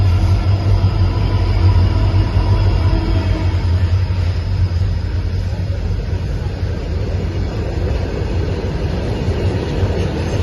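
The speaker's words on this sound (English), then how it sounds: "These are the coal trains what we are talking about" Coal train rolling along a railway track, a loud, continuous close rumble and rattle of wagons passing without a break, with no talk over it.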